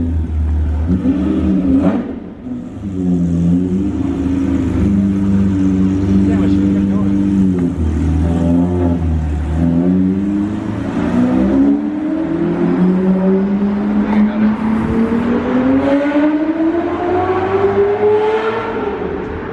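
Loud engine of a straight-piped Lamborghini Murcielago rising in pitch as it revs and accelerates on a Beverly Hills street, rough and sustained throughout, with people talking over it.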